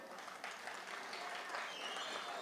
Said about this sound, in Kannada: ಗಂಡ್ ಮಕ್ಳೆಲ್ಲ ಚಪ್ಪಾಳೆ ತಟ್ಟಿ